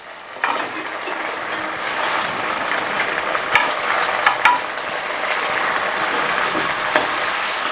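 Vegetables for a bottle gourd and spinach chorchori sizzle steadily in a pan while being stirred, with a constant crackling hiss and a few sharp scraping clicks from the spatula.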